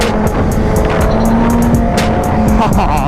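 A rebuilt BMW S1000RR sport motorcycle rides past with a steady, loud engine roar throughout, rising and falling in pitch, with no talk.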